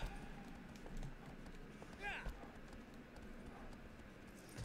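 A large, heavy horse in Shadow of the Colossus trots with rhythmic clip-clop hoofbeats, soft and fairly close, over a low ambient rumble.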